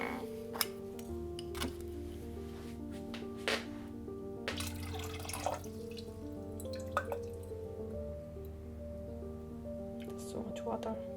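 Faint water drips and trickles close by, with small splashes, as vitreous enamel grains are rinsed in a container, over a low steady hum.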